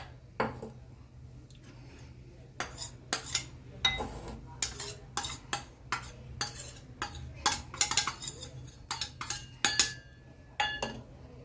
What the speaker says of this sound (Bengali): দু চামচ কর্নফ্লাওয়ার পাউডার আর 2 চামচ ময়দা একটা জায়গায় মিশিয়ে নিচ্ছি।